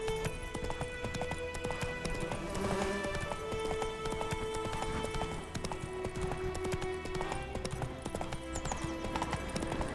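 Horse hooves clip-clopping steadily in The Witcher 3, a continuous trotting rhythm under game music, close and clear throughout.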